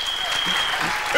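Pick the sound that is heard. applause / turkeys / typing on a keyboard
applause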